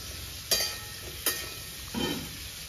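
Quiet frying of poppy seeds in a pan, with a few brief scraping stirs standing out against a low steady sizzle.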